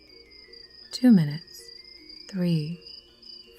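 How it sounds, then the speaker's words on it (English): Crickets chirp in a steady, high, continuous trill from some distance, holding faintly through the clip while a voice speaks twice over it. "We could hear the crickets chirping in the distance."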